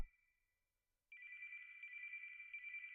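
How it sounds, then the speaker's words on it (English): A telephone rings in a steady, continuous electronic trill after a brief silence, loud and alone with no talking. "There is no way this phone is ringing right now."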